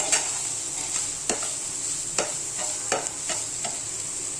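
An onion mixture fries in a pan under a steady hiss, with sharp spatula scrapes at irregular moments, close and moderately loud, and no one speaking.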